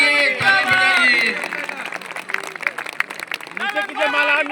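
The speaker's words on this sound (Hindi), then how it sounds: "माला देने वाले आगे ताली बजाइए, ताली बजाइए।" Applause and cheering from a crowd at a political garland ceremony in Lakhisarai, with loud clapping over a voice through a loudspeaker and general crowd noise throughout.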